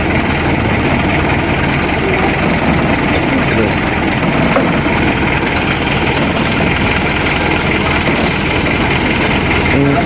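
A truck engine runs steadily close by throughout, a dense continuous rumble with a busy rattling texture and no clear breaks, while voices talk loosely over it.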